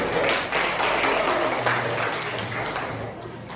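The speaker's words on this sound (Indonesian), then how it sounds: "kita kasih tepuk tangan dulu" A class of students claps for several seconds, a dense, even patter of many hands in a classroom that fades slightly toward the end.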